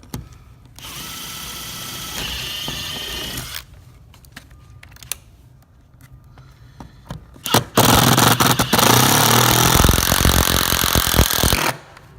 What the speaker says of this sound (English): we're going to go ahead and put this long screw in by pre-drilling first